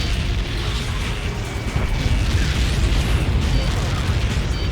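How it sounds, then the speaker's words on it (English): A massive missile impact explosion in the Ace Combat 7 jet combat game, a loud sustained roaring blast with deep rumble filling the whole stretch, under radio chatter. "How many got caught in that explosion?"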